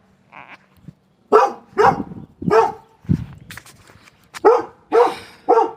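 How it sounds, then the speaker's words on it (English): A neighbor's dog barks in a loud, close series of about seven sharp barks, the first few softer and spaced unevenly, the rest coming in a fairly regular rhythm with short pauses between. "There's a dog, my neighbor's dog."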